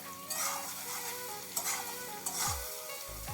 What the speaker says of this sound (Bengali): তো আমি ভালো করে এইভাবে ভেজে নেব।